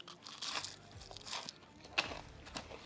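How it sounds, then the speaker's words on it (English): Air-fried shrimp from a COSORI TurboBlaze air fryer crunches under several bites, brittle crackling bursts heard close and clear in a quiet room. "the crunch you get from the TurboBlaze air fryer, it's unbelievable. You gotta hear it."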